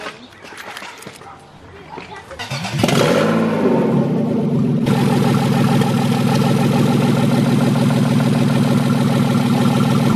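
A modified car nicknamed the Cheeto fires up on its first start. The engine catches with a rising rev and then settles into a loud, steady, close-up running drone, while people talk in the background early on.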